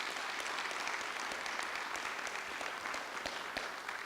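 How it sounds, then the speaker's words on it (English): Audience applause for a school team named a Level School of the Year by the National Energy Education Development Project at a school board meeting: steady, dense clapping from a crowd, sustained throughout without letting up. "Let's give them a big round of applause."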